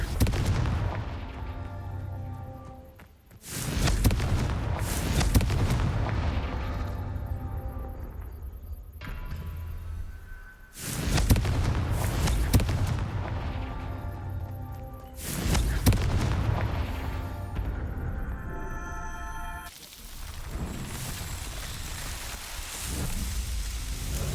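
Explosive booms from the Confringo fire spell in the video game Hogwarts Legacy, three heavy blasts spaced several seconds apart over a continuous loud rumbling game soundscape.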